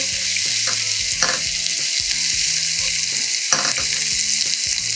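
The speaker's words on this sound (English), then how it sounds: "So saute this for around like a minute. Give it a good stir." Chicken jalfrezi ingredients sautéing in a hot pan, a loud, constant close sizzle with occasional soft scrapes of stirring.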